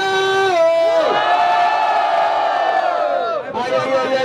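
Crowd at a rap battle final in São Gonçalo, Brazil, erupting in loud cheers, whoops and shouts, a dense close roar that dips briefly near the end and then swells again.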